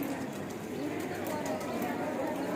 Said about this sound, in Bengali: এটার নাম জালালি কবুতর।